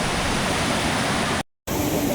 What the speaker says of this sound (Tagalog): Grabe ang ragasa ng ilog.